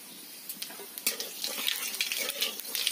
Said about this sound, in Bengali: এই কড়ার মধ্যে দিয়ে দিতে হবে সর্ষের তেল, দিয়ে দিতে হবে কালো জিরে ফোড়ন